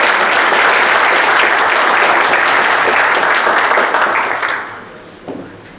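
An audience applauds guests being introduced at an army academy alumni forum and general meeting, loud sustained clapping from a large crowd that fades out toward the end.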